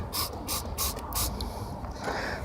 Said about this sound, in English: I'm going to go ahead and spray it.